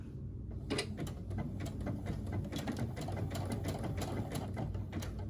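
A sewing machine stitches steadily while sewing a Vogue 1835 garment, its needle mechanism giving a fast, even clatter of repeated ticks for several seconds, close and alone with no talking.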